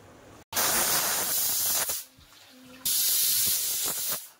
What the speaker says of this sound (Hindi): अब ढक्कन लगा देते हैं, इसमें 1 सीटी आने देते हैं